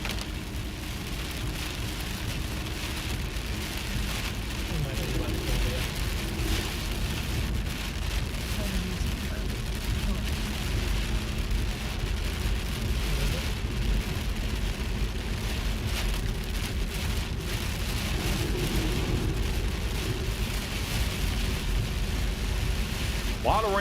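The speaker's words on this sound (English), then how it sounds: "A lot of rain coming down over here." Heavy rain pours down steadily during a tornado-threat storm, a dense continuous hiss and patter heard close throughout, with faint rumbles underneath.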